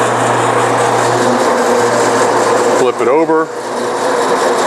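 A bandsaw cuts a trapezoid workpiece, its steady high machine whine running loud and continuous throughout, dipping briefly near the end as a person speaks over it.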